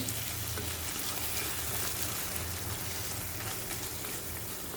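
Thick tomato rice gravy sautés steadily in a pan in a Kerala-style kitchen, a dense, even sizzle holding at constant loudness without any talk.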